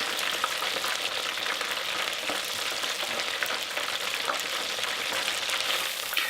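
Steady, dense crackling sizzle of scotch eggs deep frying in hot oil, continuous and close with no voices.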